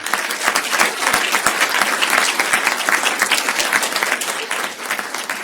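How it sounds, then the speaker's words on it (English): Audience at a human relations awards ceremony clapping for honorees, a loud, close, dense burst of applause that holds steady and tapers slightly at the end. "So please give them all a round of applause."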